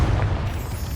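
A Confringo fire spell detonates in Hogwarts Legacy, a dense low rumbling blast that fills the whole second without pause, heavy in the bass.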